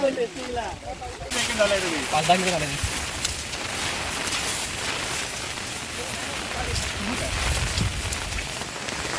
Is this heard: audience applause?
no